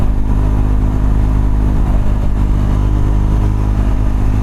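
Triumph Scrambler 400X motorcycle engine held near 6,000 RPM while riding at highway speed, a loud, steady droning hum with wind noise throughout.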